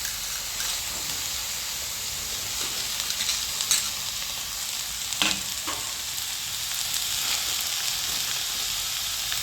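Onions, curry leaves and dried red chillies frying in a pan for a mushroom, capsicum and potato stir-fry: an even, continuous sizzle with faint hiss, broken by a few soft clinks of a stirring spoon.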